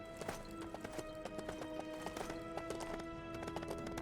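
A horse gallops in Lego The Lord of the Rings. Quick repeated hoofbeats run over a steady musical drone and background hum, fairly close and continuous throughout.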